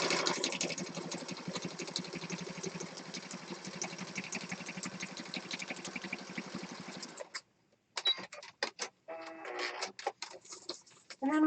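A sewing machine stitches through paper for a junk journal, a steady rapid mechanical whirr for about seven seconds, then stops and gives way to short clicks and handling noises.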